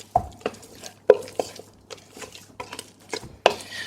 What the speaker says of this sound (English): let's go ahead and keep stirring.